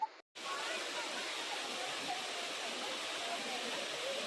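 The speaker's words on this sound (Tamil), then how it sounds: "ஆனா பாக்குறதுக்கு ரொம்பவே அற்புதமான வாட்டர் ஃபால்ஸ்னா இதுதான் நீங்களே பாருங்களேன்" Waterfall near Mankulam in Kerala, a short but scenic fall, giving a steady broadband roar of falling water close by after a brief silent gap at the start.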